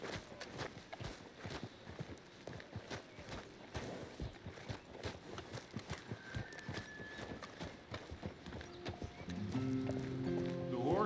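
A horse in Red Dead Redemption 2 gallops with steady rapid hoofbeats, snorting and breathing heavily close by, with a whinny and rising tonal game music near the end.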